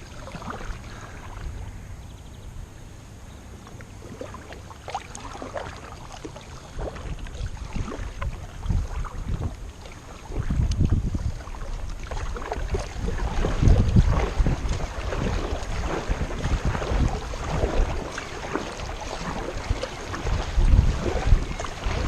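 Wind buffets a sit-on kayak heading into it on an estuary, a steady rushing roar with low microphone rumble that grows louder partway through, mixed with splashes of water against the hull.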